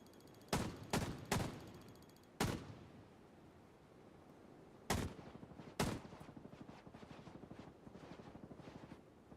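Video game gunfire in sharp bursts: several loud single shots early, a lull, then two more heavy shots leading into rapid automatic fire that rattles on steadily to the end, with no talking.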